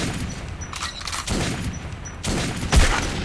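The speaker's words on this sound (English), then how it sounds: "This the shotgun isn't doing anything against them." Several loud shotgun blasts and booming gunfire from the video game Metro 2033, firing in bursts with no voices over them.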